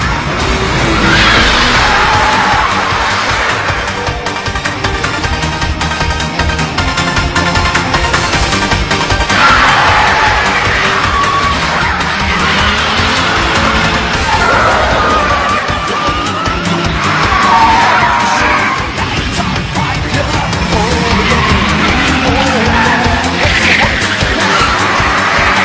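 A Mitsubishi Lancer Evolution IV RS and a Toyota AE86 drift hard, with loud, continuous tire squeal and skidding over roaring engines, the screeching rising and falling in long sweeps without a break.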